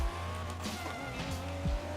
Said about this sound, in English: Typically, in a game like this, when your car hits red line, you upshift.